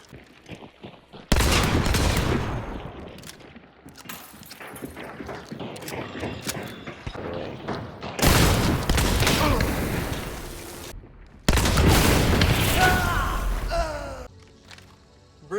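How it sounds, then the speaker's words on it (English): Loud blasts from a break-action double-barrel shotgun in Hunt: Showdown, several sharp broadband bursts spread across the stretch, the biggest near the start, middle and late, amid in-game movement and rustle. "Break action shotgun with 2 barrels, high damage but high pellet spread"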